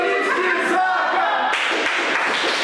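A wrestler clapping at a pro wrestling show, a run of quick, even handclaps heard close, with crowd noise and a commentator's voice over them.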